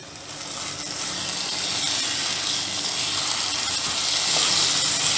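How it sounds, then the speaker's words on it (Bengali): A steady, loud sizzle and hiss comes from Bengali banana flower curry (mochar ghonto) being stirred in a hot pan over high heat, continuous for several seconds with no voices. "এবার সব জিনিসগুলোকে জোর আঁচে 30 সেকেন্ড নেড়ে নেব।"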